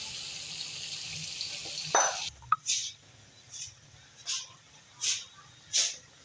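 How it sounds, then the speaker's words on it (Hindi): Tomato paste dropping into a pan of frying chicken karahi: a sudden wet plop and a brief burst of sizzle, followed by a steady frying hiss that swells in short, regular surges, close and fairly quiet. "ये मैं टमाटर का पेस्ट डाल रही हूँ"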